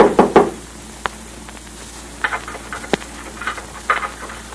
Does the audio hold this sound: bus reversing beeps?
no